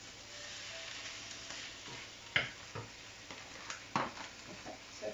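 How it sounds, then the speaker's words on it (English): Mushrooms cooking off in a pan as peanut sauce goes on, a soft steady sizzle with a few sharp scrapes and knocks of stirring, close and fairly quiet, no voices. "we want to cook these mushrooms off. I'm going to start putting our sauce on as well."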